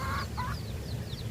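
Soft clucking and chirping from backyard hens with freshly hatched chicks on a Filipino duck and poultry farm, heard against a steady, noisy outdoor background.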